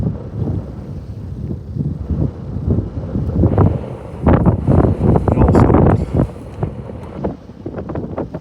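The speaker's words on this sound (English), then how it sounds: "She's blowing straight sidways, blowing a gale." Strong gale wind roars and buffets into the microphone outdoors in winter central Maine, gusting loud and uneven, peaking in the middle, with a person's voice faintly mixed in near a snowmobile.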